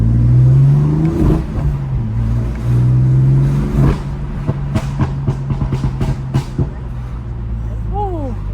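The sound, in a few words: BMW F80 M3 engine and stock exhaust accelerating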